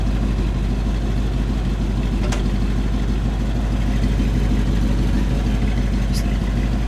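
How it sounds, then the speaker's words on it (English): A 1953 Cadillac Eldorado convertible idles smoothly, its exhaust a steady, loud, low rumble that stays even throughout, with a couple of faint clicks on top. "Listen to this exhaust."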